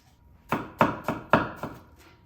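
A Heriter Chinese cleaver chops through partly frozen meat on a board, five sharp, solid thwacks in a loose, quick rhythm, close and loud with no talking.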